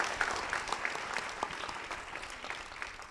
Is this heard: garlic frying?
no